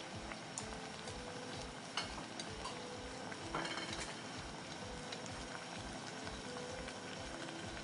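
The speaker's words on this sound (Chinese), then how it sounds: "我下锅里头，我就是要茶叶的味道，这样就好了。 好，我在里头煮一下，煮个30秒" A pot of dashi with kombu and bonito flakes simmering, a soft, steady bubbling with occasional faint clicks and taps, fairly quiet and close.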